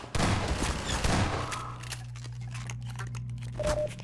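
Shotgun blasts in Half-Life 2, a loud broadband burst opening the moment with a second heavy report about a second later, then a lingering low rumbling tail and scattered clicks of in-game action.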